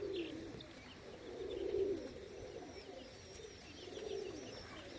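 Pigeons coo softly on a roof in low, rolling phrases, a few repeated calls rising and fading, with faint chirps in the background.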